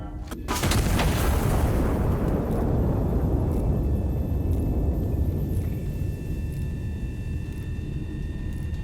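A single heavy blast from a large gun booms loudly in a war video game, then trails off in a long, rolling rumble that fades slowly over several seconds.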